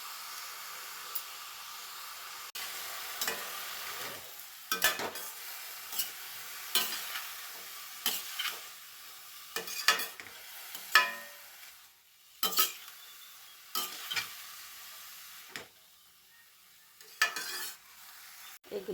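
Eggplant and tomato sauté in a pan for Chidambaram kosthu, with repeated spatula stirs and scrapes in an irregular rhythm over a faint, steady sizzle, close by and alone.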